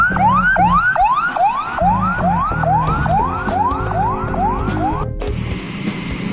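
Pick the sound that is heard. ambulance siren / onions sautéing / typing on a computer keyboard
ambulance siren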